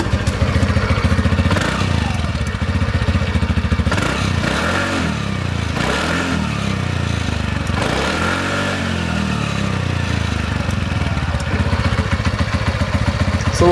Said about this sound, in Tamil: இதோட எக்ஸாஸ்ட் சவுண்ட் வந்து நீங்கள் கேட்டுருப்பீங்க, ரொம்ப சூப்பராக இருக்கும்